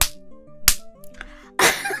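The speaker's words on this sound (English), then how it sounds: "This is the sound of my fist hitting my palm" A fist smacking an open palm gives three sharp slaps, one at the start, one early and a louder, longer one near the end, each standing out over steady background game music.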